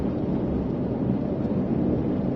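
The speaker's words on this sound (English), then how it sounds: "God, it is windy as all heck out here" Steady, loud wind roaring and buffeting the microphone throughout during a Texas storm, a dense low rumble with no pauses.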